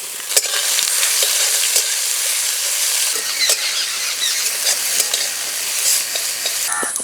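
Chopped onions hitting hot oil with garlic in a pan, a loud steady sizzle with sharp clicks of stirring throughout, no voices.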